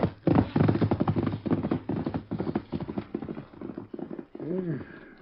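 A horse's hooves clip-clop in a quick, steady rhythm up close, ending with a brief whinny, in an old Western radio drama.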